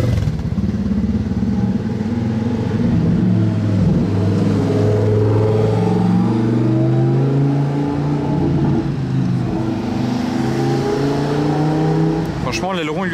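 Lamborghini Aventador S fitted with a Novitec rear wing, its V12 engine revving loudly and steadily through a cold start, with people talking close by over the deep engine roar.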